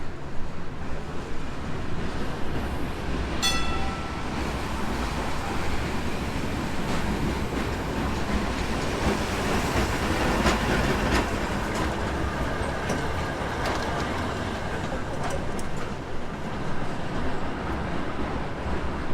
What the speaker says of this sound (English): there's a super cool tram coming down here